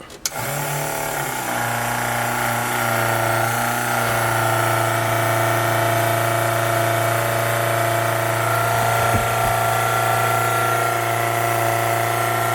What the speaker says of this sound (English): we turn on the lift pump, check for leaks from the lift pumps, filling up the swirl pot.